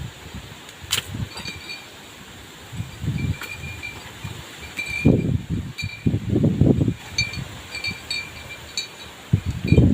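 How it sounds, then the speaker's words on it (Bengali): Strong wind gusts roar through trees and buffet the microphone in uneven bursts, with leaves rustling between the louder surges. "এত জোরে গাছে হাওয়া হচ্ছে, এত জোরে বাতাস বইছে"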